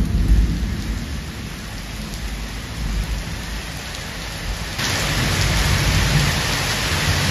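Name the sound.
heavy rain at night with thunder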